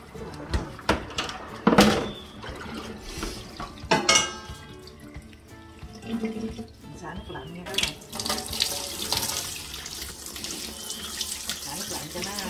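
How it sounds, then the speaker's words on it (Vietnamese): Cold tap water runs steadily from a faucet to rinse freshly made udon noodles in a kitchen sink, a continuous hiss with occasional clatter of utensils and a voice speaking over it. "Xả nước lạnh cho nó đừng dính."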